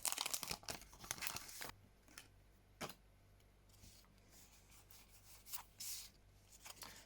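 Foil Pokemon XY Evolutions card pack, glued shut, being torn and crinkled open by hand, with close scratchy ripping bursts and rustling that come in short irregular spurts.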